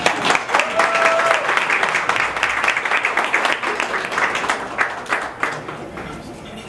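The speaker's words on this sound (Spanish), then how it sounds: "Un aplauso para ellos." Wedding guests applaud the bride and groom, a loud burst of clapping that swells and then slowly thins out toward the end, with a few voices mixed in.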